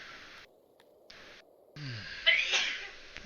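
A single sharp sneeze bursts out near the microphone, quick and breathy, against a faint background hum during a Songs of Syx gameplay session.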